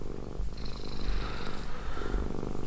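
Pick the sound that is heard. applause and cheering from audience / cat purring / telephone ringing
cat purring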